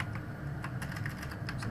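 Keys clatter on a computer keyboard as a new sheet name is typed into a spreadsheet program, a quick irregular run of light clicks under steady background hiss, with nobody speaking.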